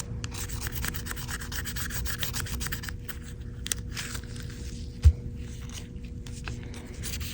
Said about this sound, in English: I'm trying to use the plastic razor so this way it won't get scratches.